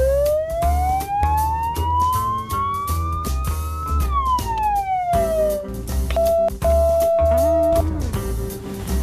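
A police car siren rises and falls in long sweeping wails, then shifts to a steady two-tone pattern, loud and close over a rhythmic backing with no talk.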